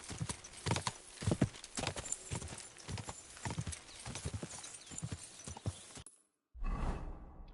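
A horse in the video game Kingdom Come Deliverance 2 trots with a steady, rhythmic clip-clop of hooves for several seconds, then a brief silence and a final swishing thud.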